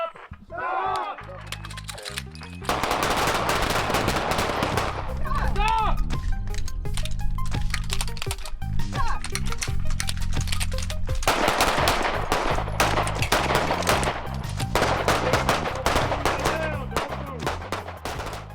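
Gunfire from a malfunction-clearing shooting drill at a tactical training range, with repeated shots in rapid bursts through most of the stretch after a brief quieter opening, loud and close.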